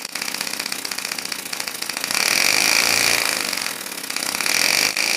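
A small compressed-air engine spinning at about 4,500 RPM gives a loud, steady, high-pitched buzzing whine that swells louder partway through and keeps running without a break.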